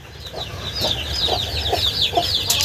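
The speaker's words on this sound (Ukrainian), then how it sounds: "давайте ще покажу зразу моїх карликових курей, бентамочки" Bantam hens in an outdoor run cluck in a quick, repeated rhythm close by, with high chirping calls rising over the clucks and no talking.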